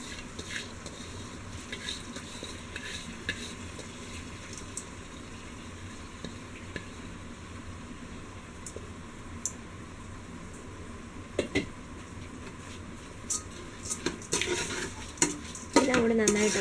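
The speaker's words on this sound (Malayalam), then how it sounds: "എല്ലാം കൂടി നന്നായിട്ടത് ഇളക്കി" A spoon stirs soaked rice into a beef biryani masala in a pot, Kerala style, with repeated scraping strokes over a soft sizzle and occasional metal clinks that grow louder toward the end.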